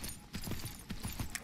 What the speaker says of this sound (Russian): А лошадь я, наверное, не догоню.